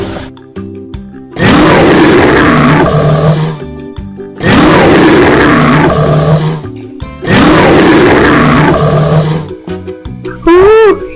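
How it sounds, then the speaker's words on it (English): A bear's roar, played as an animal sound for children, comes in three long loud blasts separated by brief pauses, with a short rising squeal-like sound at the very end. "Listen how the bear makes noise."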